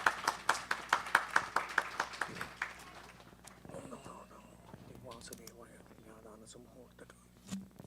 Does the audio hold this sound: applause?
yes